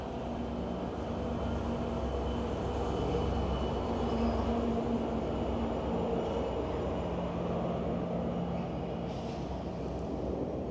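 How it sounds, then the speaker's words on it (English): A GO commuter train rumbles past a residential street in Toronto at a steady distance, a continuous low roar with rattling wheels that holds evenly throughout without any talking. "And here comes a train."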